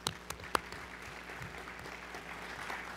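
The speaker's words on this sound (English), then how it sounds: "please give him a short round of applause" Applause from a small group, a few sharp claps at the start, then a steady, fairly faint patter of clapping continuing throughout.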